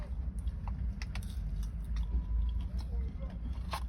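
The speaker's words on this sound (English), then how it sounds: "there will be chewing sounds" Someone eats a Cajun chicken burger close to the microphone, with soft, irregular chewing and occasional bites and crunches over a low background hum.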